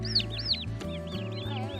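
Young chicks chirp in quick, high, rising peeps, several overlapping calls repeating over a low steady hum, fairly close and soft.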